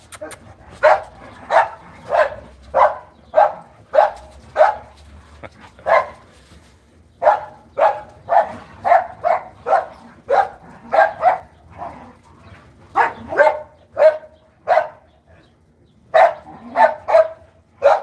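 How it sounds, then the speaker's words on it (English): Dogs bark and yip in rapid, rhythmic bursts, nearly continuous for the whole stretch, with brief pauses, close and lively like rough play. "Excuse my dogs. They're play fighting."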